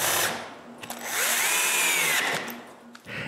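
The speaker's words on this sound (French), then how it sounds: "Pour ça, je visse une cale coupée à 5 degrés." A power drill drives a screw through a wooden wedge cut at 5 degrees into a plywood jig, its motor whining loudly in two close bursts with a rising pitch, then stopping.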